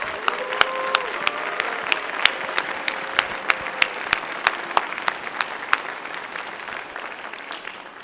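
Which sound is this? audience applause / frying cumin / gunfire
audience applause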